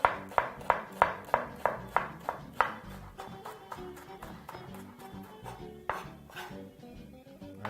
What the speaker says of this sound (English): So starts very easily by chopping up half a red onion.